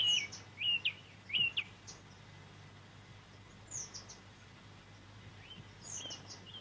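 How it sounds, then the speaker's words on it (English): A pair of goldfinches feeding their chicks at the nest make faint, high twittering chirps in short bursts over quiet outdoor background hiss. "Here we have a pair of goldfinches, the cock and hen bird, feeding the babies at the same time."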